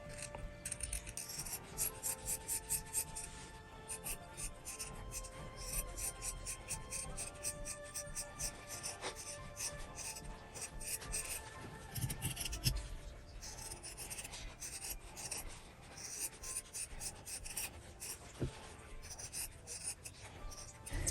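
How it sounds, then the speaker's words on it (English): Scissors cutting fabric scraps for patchwork, a quiet close rasping snip and rub repeating steadily at a low level, with no one speaking. "So let's go ahead and cut this fabric out."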